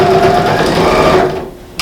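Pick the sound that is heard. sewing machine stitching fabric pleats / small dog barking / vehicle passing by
sewing machine stitching fabric pleats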